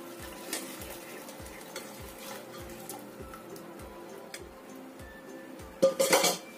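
Palm sugar syrup poured through a strainer into a cooking pot, with steady rhythmic scraping and stirring strokes about every half second, then a brief louder clatter of metal utensils near the end.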